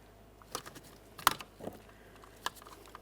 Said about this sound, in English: Just go ahead and press that in, listen for a click there.